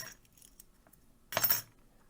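A bunch of lock keys jangles in one brief burst of metallic clinking, close and fairly loud, after a quiet stretch of faint handling noise.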